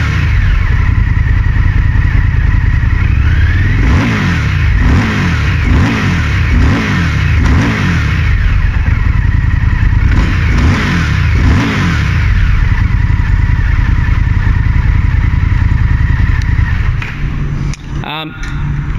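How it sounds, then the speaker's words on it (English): Indian FTR1200 RR motorcycle engine revved repeatedly on the throttle, a series of rising and falling surges over a steady idle rumble, loud and close. Someone talks throughout. "as I'm revving the throttle"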